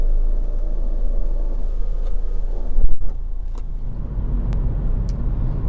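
A Honda Accord 2.2 EX diesel saloon drives on the road, giving a steady low engine and road rumble heard from inside the cabin, with a brief heavier thump near the middle and no talking.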